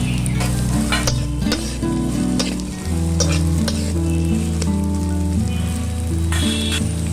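Green chillies fry in hot oil with garlic and ginger for a homemade chilli sauce, giving a loud, continuous sizzle throughout with no talk.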